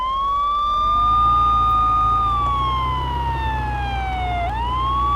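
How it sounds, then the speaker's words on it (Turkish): A loud police siren fitted to a Passat in Euro Truck Simulator 2 wails continuously, its pitch sliding slowly down then snapping back up, over a low rumbling vehicle engine. "Ekstra sirenle de attık. İyi dinleyin şimdi."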